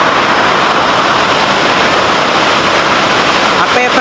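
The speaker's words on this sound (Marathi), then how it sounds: "आता येताना तर काय नव्हतं आणि एकदमच चालू झाला पाऊस" Heavy rain pours down in a loud, unbroken roar that fills the whole stretch without letup.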